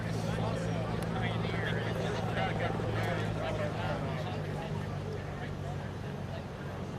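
Engine of a 1909 Wright Military Flyer (Army Signal Corps No. 1) reproduction runs as a steady, loud low drone with an even hum, set on its launch rail with people talking nearby.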